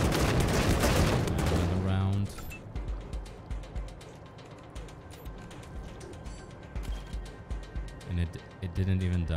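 Gunfire in the PC video game Wasteland 3 rings out as a run of rapid, fairly loud shots and impacts, following a brief stretch of heavier sustained noise.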